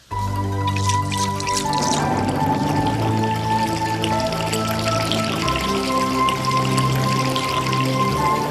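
Water pouring from a novelty water multiplying machine, a continuous splashing, dripping stream heard close up, with sustained tonal music playing underneath.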